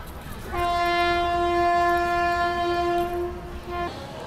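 The Andaman Express sounds one long, steady horn blast of about three seconds, loud and close, over a low rumble of rolling wheels; no one speaks.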